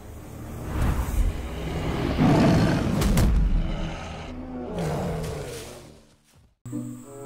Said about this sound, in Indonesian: Oh benar, ini adalah harimau. Wow, harimaunya ganas sekali.